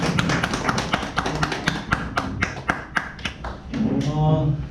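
An indoor audience claps to welcome a speaker at a local talk, a brisk run of many overlapping handclaps that thins out near the end as a voice begins.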